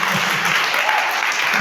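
A church congregation claps and cheers in acclamation of Jesus, loud dense applause filling the room without pause for its whole short length.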